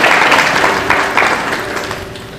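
A church congregation claps together to glorify the Lord during a Hindi sermon, a broad sustained burst of applause that fades gradually, with faint background noise.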